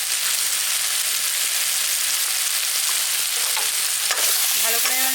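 Hog plum pickle with turmeric and Kashmiri chilli powder cooking in a hot pan, a dense, even sizzle throughout, with a few spoon scrapes and clinks near the end.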